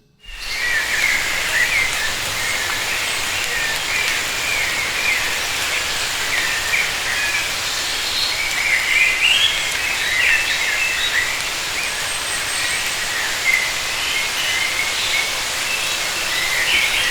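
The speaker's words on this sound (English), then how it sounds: "There's a river running in the background, there are birds chirping, there's forest sounds" Forest ambience with a river running in the background and birds chirping, a steady, even rushing wash with scattered bird calls and chirps woven through it, moderately loud and continuous with no voices.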